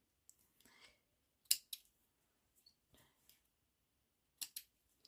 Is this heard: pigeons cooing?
no